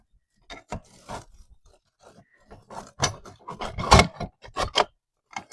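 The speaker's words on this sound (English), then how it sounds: "These are big old keys." Big old metal keys are handled up close, giving a series of irregular clinks, scrapes and jangles that come in short bursts with quiet gaps, louder toward the end.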